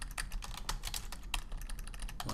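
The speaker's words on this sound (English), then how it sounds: "And I'm typing services" Quick, close clicking of keys on a computer keyboard in a short burst of typing, with no speech.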